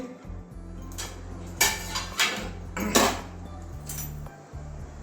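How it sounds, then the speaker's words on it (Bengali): Metal clinks and clatters from a frying pan lid being lifted off during cooking of stuffed kakrol fry, several sharp knocks over a steady low hum from the stove. "আবারও ঢাকনা খুলে দিচ্ছি"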